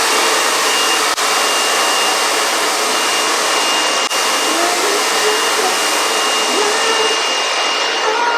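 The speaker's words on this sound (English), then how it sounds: "This is the blow dryer that I use currently." A blow dryer runs continuously at close range with a loud, steady whooshing roar as it dries hair with a round brush, and two brief clicks break the noise.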